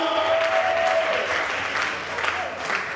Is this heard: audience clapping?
yes